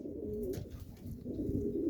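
A flock of pigeons, kept together in boxes in a loft, coos in low repeated rolls that overlap and keep going throughout. No one speaks.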